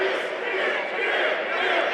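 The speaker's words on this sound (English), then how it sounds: "There's the crowd solidly behind the Lakota Warrior Red Cloud" Wrestling crowd at a live indie pro wrestling show cheering loudly and steadily for the Lakota Warrior Red Cloud, a dense roar of voices held for the whole stretch.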